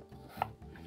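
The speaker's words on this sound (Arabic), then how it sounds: "عندي هنا البطاطس قشرتها وهقطعها مكعبات" A knife chops peeled potatoes into cubes, a single crisp cut in a kitchen, close and fairly quiet against a soft background hum.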